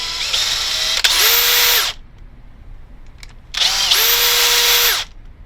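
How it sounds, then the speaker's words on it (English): A power drill fitted with a countersink bit deburrs a drilled hole for a door hinge pin, running in two loud, close bursts of high whirring about a second apart with a quiet gap between. "Just get you a like a countersink and just clean it up."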